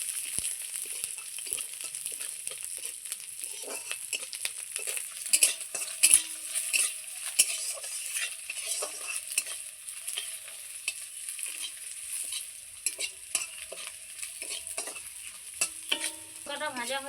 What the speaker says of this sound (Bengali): এবার ভেজে নেব রসুন লঙ্কা।